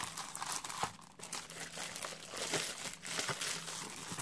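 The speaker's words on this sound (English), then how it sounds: "So you are seeing me actually unwrap it." Plastic packaging of a set of Cretacolor Aqua Stic water-soluble oil pastels crinkles and crumples as it is unwrapped by hand, with steady close rustling and a few sharper tearing crunches throughout.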